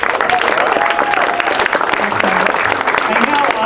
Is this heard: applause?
yes